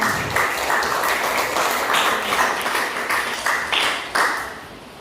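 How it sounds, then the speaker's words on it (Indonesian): A classroom group claps for group 3's presentation, giving a steady burst of many hands with a few sharp individual claps standing out. It is fairly close and lasts about five seconds before tapering off. "Tepuk tangannya."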